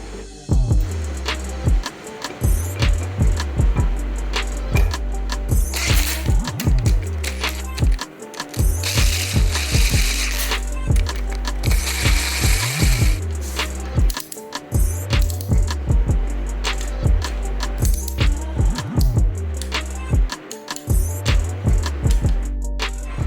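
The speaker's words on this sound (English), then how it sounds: "I'm going to put them into their respective positions in the cylinder head and get them torqued down" A ratchet clicks in repeated rapid strokes while torquing camshaft bolts into an SVT Focus cylinder head, loud and close, with brief pauses between bursts of pawl ticking and occasional metallic knocks.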